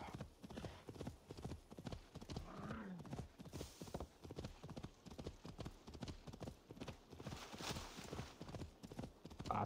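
A horse gallops in Assassin's Creed Valhalla, its hooves pounding out a fast, steady clip-clop rhythm close up the whole way, with a brief whinny partway through.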